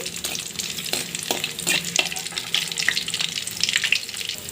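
Crushed garlic frying in a pan for a ponnaganti leaf tempering, a steady close hiss and crackle with scattered stirring scrapes and clicks throughout.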